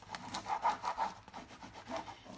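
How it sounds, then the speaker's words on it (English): A Japan scraper drags across a rough textured paint finish in a series of short, rhythmic rasping strokes, close and fairly quiet, with no talking. "I'm going to use what is called a Japan scraper,"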